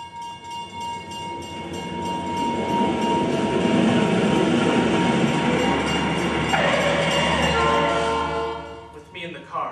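A speeding train rushes past with a loud, building roar and a sustained horn tone, swelling to a peak and then cutting off abruptly near the end.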